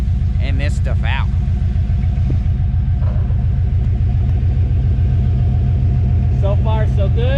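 A hot rod engine running on bad gas idles with a loud, deep, steady rumble and an even pulsing beat, close by, as people talk over it.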